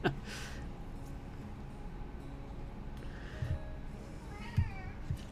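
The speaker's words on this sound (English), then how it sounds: "meow of sadness" A pet cat meows a few times indoors, faint and drawn out, with short soft calls scattered over low background noise.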